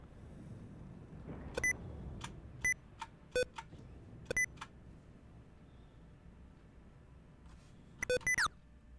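Windows Sticky Keys activation beeps heard while playing Star Citizen 3.6: several short, clear electronic beeps in separate clusters, with a rising tone near the end, over a low, steady background hum.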